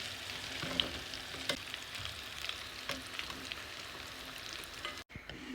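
Flour-coated chicken pieces deep frying in oil, a soft, even bubbling sizzle heard alone at low level with a few small crackles and pops.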